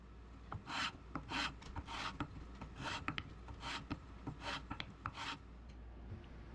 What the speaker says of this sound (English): First, we'll sand each segment to make sure there are no burrs on them.